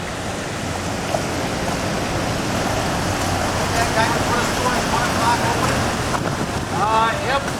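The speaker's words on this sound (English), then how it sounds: "Now here comes the boat." A boat moves into an Erie Canal lock near Berlin, New York, heading down toward the Mohawk: a steady, broad wash of engine and water noise under heavy wind buffeting on the microphone, with faint voices now and then.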